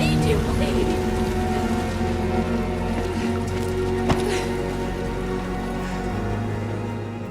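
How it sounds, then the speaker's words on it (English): Steady rain pours and patters on surfaces in a dark animated scene of a burning warehouse, a dense continuous wash with faint smoky ambience and a brief sharp impact midway. "Vi abandons Powder in the rain and smoke of the burning warehouse"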